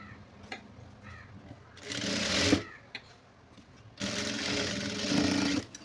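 A sewing machine stitches a churidar top, running in two loud, close, buzzing bursts with a brief pause between them.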